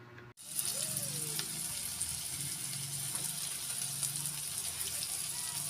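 Fish bagoong sautéing in a pan makes a continuous sizzle and hiss after a brief opening clatter, with faint background sounds underneath.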